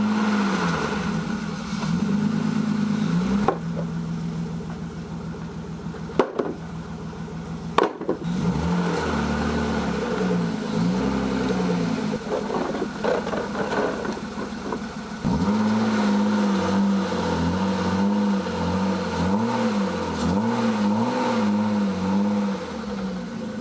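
A BMW E36 engine idles and revs up and down in waves, close by, while the car backs up onto ramps, with a brief pause in the middle before it picks up again.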